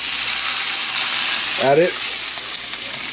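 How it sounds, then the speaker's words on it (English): Beef sears for a Mexican caldo de res soup, a loud continuous frying hiss and sizzle close by, with a short spoken phrase rising briefly over it. "Wow, love that sizzle."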